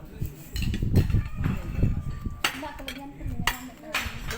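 Metal spoons clink against plates and serving dishes as food and sambal are dished out at a shared dinner table during a Ramadan gathering, sharp irregular clatters with people talking nearby.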